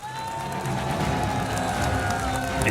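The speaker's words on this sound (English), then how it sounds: "You can hear the crowd getting into it." A large crowd at a StarCraft 2 esports event, IEM Katowice 2016, cheers and applauds in a steady, dense roar that builds slightly over a few seconds and fills the hall.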